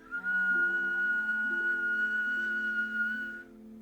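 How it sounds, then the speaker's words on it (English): A slow, deep inhalation drawn through puckered lips during a breathing exercise, producing a steady, sustained whistle lasting a few seconds with a slight pitch wobble, close and clear with no talking. "we will be inhaling deeply through the puckered lips with the whistle"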